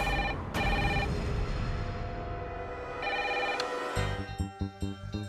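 A telephone rings with repeated electronic tones, loud and near, followed by a few short sharp clicks as the ringing stops.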